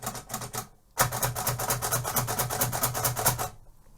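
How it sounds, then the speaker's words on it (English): Perkins Brailler, a six-key braille machine much like a typewriter, clattering in a fast run of sharp mechanical key strikes with one brief pause near the start, loud and close. "So this is the Perkins Brailler"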